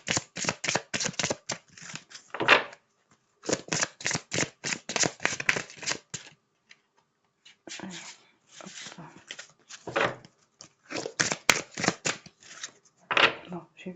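A deck of angel-message oracle cards is shuffled and spread out on a surface, giving repeated close, crisp bursts of rapid flicking and riffling with short pauses between rounds.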